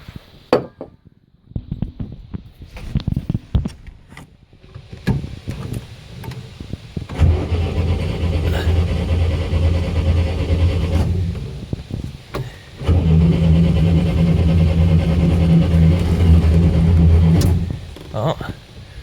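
A 1980 Atomic 4 marine engine cold starting on starting fluid: faint cranking and sputters first, then the engine catches and runs loudly with a steady low rumble, briefly dips, then roars on. Voices speak over it.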